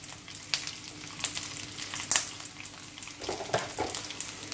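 A large handful of curry leaves crackles and sizzles steadily in hot oil in a pan for a Malayalam curry-coriander gravy, with scattered sharper pops over a constant frying hiss and no voices.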